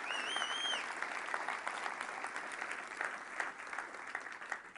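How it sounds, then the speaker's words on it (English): Conference audience applauds at a 2011 e-commerce keynote, a dense, steady wash of many hands clapping that holds for several seconds at moderate distance, with a brief whistle-like tone near the start. "Round of applause for the teams, yes."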